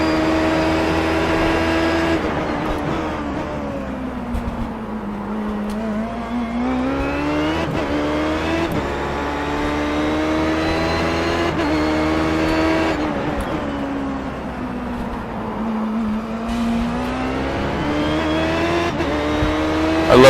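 Race car engines drone and rev continuously around the Sebring racetrack, pitch rising and falling as cars accelerate and brake, loud and steady.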